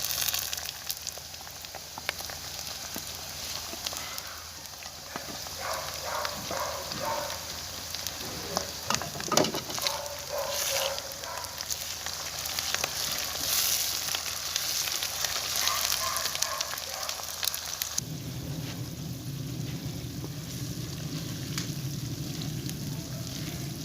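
Green chilies and tomatoes frying in oil for a fish curry give off a steady close sizzle, with stirring clatter mixed in and a deeper bubbling hiss toward the end.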